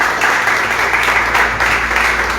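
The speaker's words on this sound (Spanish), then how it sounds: "Dale un aplauso bien fuerte al Señor." Loud, dense applause from a congregation during a church service, a sustained wash of many hands clapping close by for a couple of seconds with a faint voice beneath it.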